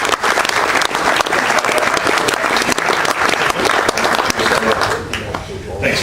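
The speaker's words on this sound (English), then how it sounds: "Round of applause for Freddie Clutterbuck" Enthusiastic applause at an awards ceremony honoring Freddie Clutterbuck, WAFL Rising Star for 2011; a dense, loud round of clapping from the audience that carries on steadily before tapering near the end.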